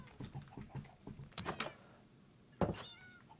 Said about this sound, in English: There's so many cats.